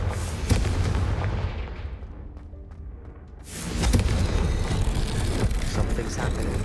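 A Confringo blasting spell detonates in Hogwarts Legacy: a deep booming explosion erupts, fades into a low rumble, then swells into a second loud, sustained blast with crackling debris.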